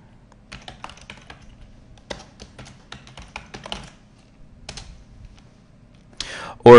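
Typing on a computer keyboard while entering names into a Gmail contact group: bursts of quick, light key clicks in an irregular rhythm, close and fairly quiet, with short pauses between runs.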